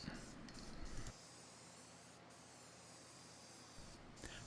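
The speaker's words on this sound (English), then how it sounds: "now we're going to go ahead and put a nice coat of clear lacquer" A spray can hisses as clear lacquer coats a small wooden cross cut sled, one steady hiss running for a few seconds and stopping, with quieter spraying at the start and end.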